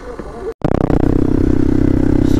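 Off-road riding on a BMW 310 GS or Xpulse 200 motorcycle. After a voice and a brief cut-out, the engine settles into a loud, close, steady drone with rattling clatter over rough ground.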